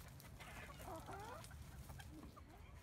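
Soft clucking from Nova, a show hen kept on a farm, a few quiet, warbling calls over a constant low background rumble.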